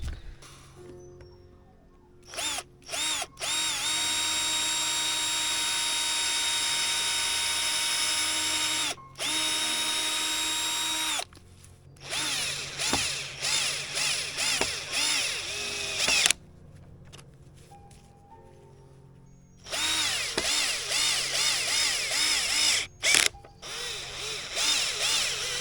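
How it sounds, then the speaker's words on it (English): An electric drill drives screws into garden bed borders while preparing a vegetable patch, with several long bursts of steady whining motor close by, broken by short pauses and uneven revving toward the end. "we have some screws and an electric drill"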